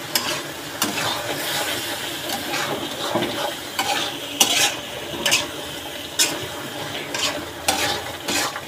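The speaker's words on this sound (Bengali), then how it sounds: "আর একটু কষানো হোক" Tomato vegetable curry being sautéed in a pan, a spatula scraping and stirring in repeated strokes over a low sizzle, with occasional louder metallic knocks against the pan.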